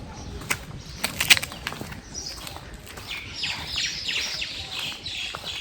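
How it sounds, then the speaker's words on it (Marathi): Birds chirp and tweet at sunrise in an outdoor garden setting, a mix of short bright calls and trills scattered across the clip, moderately close, with no talking. "पक्ष्यांचा आवाज इतका छान येतोय ना."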